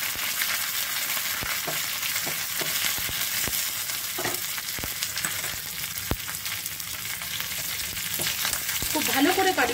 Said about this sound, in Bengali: খুব ভালো করে কারি পাতাটাকে ভাজতে হবে, নইলে খুব ভালো লাগবে না।